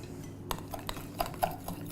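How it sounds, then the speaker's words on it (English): Spoon stirring lemon curd into yogurt in a bowl, a few light clinks and scrapes ringing out at uneven intervals, close and fairly quiet. "Just kind of mixing that so it's nice and mixed together."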